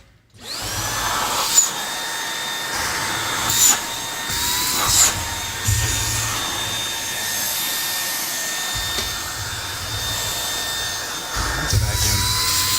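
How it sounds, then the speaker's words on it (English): A vacuum cleaner runs steadily for the whole stretch, a constant high whine with droning motor hum that swells and dips as it is pushed around, fairly close and unaccompanied by talk. "That's a vacuum."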